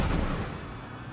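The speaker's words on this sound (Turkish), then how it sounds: "Herif canlı bomba çıktı ya." A single muffled explosion in the video game Papers, Please, where a suicide bomber detonates at the border checkpoint: a short, deep boom that decays quickly.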